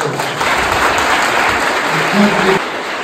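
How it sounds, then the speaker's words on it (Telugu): A crowd of residential school students claps loudly and continuously for a few seconds, a dense, even burst of applause from many hands. "గట్టిగా ఒక్కసారి క్లాప్స్ కొట్టారు"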